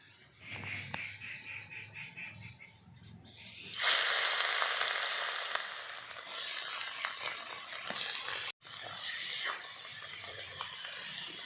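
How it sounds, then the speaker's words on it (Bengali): Salted mushrooms hit a hot pan, and a sudden loud, dense sizzle starts a few seconds in and holds steady, briefly cut off once before resuming; quieter kitchen noise comes before it, with no speech. "মাশরুমগুলো ভাজে নিই, লবণ দিয়া মাশরুমটা একটু মাইখে নিই, তারপর ভাজবো।"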